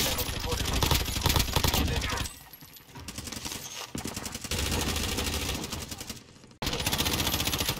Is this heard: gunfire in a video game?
yes